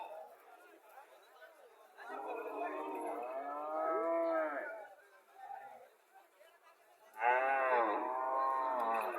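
Cows and calves at a rural cattle market where Sindhi-breed cows are sold, with several close, drawn-out moos rising and falling over background chatter and people talking.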